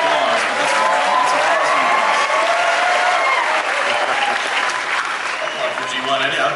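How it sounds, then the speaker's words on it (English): Steady, dense applause from a large audience in Comic-Con's Hall H at a Bumblebee movie panel, sustained and loud throughout with some cheering mixed in. "applause for G1"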